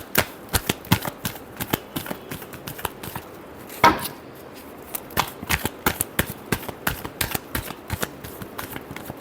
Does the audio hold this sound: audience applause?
no